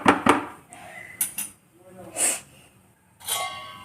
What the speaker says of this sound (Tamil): இதை கொஞ்சம் நேரம் மூடி வச்சுருவோம், நல்லா கொதிக்கட்டும்.